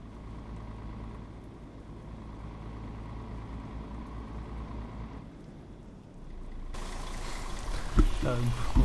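Rain falling in Euro Truck Simulator 2 while driving a Tourismo Havaist bus around Istanbul Airport: a steady low engine drone, then a broad hiss of rain swelling in over the last couple of seconds.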